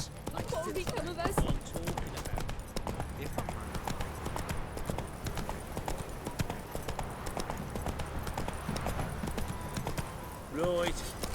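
Roach the horse's hooves clip-clop steadily across ground in The Witcher 3, a near, rhythmic trot with a brief whinny near the end, heard under spoken dialogue.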